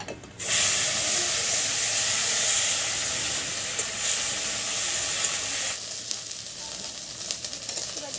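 Onion and garlic paste hits hot oil in a village-style prawn curry, bursting into a loud, close hiss that holds steady for several seconds, then drops to a quieter crackling sizzle.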